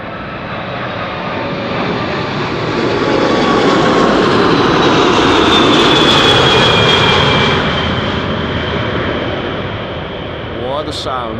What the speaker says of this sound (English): the G from Aegean is approaching runway 36 right